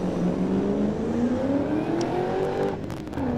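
A BMW E30 drift car slides through a corner at a drift event, its engine revving loud and close with rising and falling pitch, while faint tire noise sits underneath.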